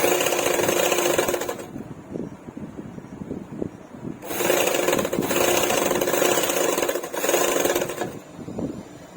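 A sewing machine stitches a blouse seam in bursts: loud motor runs from the start, a short pause, then further long stretches of steady mechanical whirring with brief stops between them.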